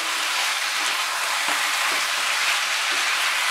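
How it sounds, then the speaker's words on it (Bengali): Cucumber and mixed vegetables for Bengali shukto sauté in a hot pan over a raised flame, a steady close sizzle of frying with a few faint stirring scrapes, no voices. "ফ্লেমটাকে বাড়িয়ে দিয়েছি দিয়ে এটাকে এবার আমি কষাবো"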